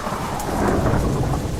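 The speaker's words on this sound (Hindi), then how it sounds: "बाहर मूसलाधार बारिश हो रही है, बिजली कड़क रही है।" Heavy downpour with rolling thunder, a dense continuous roar of rain on surfaces with deep rumbling underneath, loud and close, no voices.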